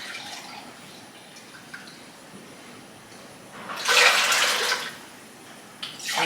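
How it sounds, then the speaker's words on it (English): Vinegar poured from a container into a pot in a home kitchen, a steady low trickle that swells into a louder splashing gush for about a second, then fades, with a brief final splash and no talk. "we're gonna get our 4 cups of vinegar in here"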